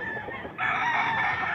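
A rooster crows once in Mantalungon, Cebu, loud and close, its long drawn-out call filling most of the moment with no talking.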